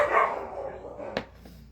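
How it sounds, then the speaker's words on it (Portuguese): Dogs bark a few times at moderate distance, brief yaps mixed with a faint whine, under and around a person talking. "meus cachorros latindo"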